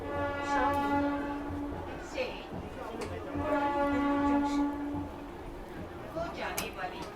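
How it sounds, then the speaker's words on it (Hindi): Train pulling out of Baraut railway station on a modern Indian line's inauguration day, its long horn sounding twice amid a busy crowd murmuring and chattering on the platform. "चलिए फाइनली अपना जो डिपार्चर है वो बड़ौत रेलवे स्टेशन से हो रहा है।"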